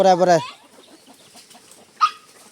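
A chicken lets out a loud, drawn-out squawk up close, then soft scattered clucks follow before another brief sharp cry.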